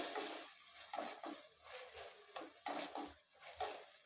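Close, rhythmic scraping and clinking of a utensil in a pan as tomatoes are sautéed for chicken curry, repeated strokes about every half second, with no voices.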